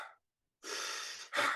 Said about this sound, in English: breathing in and hold and out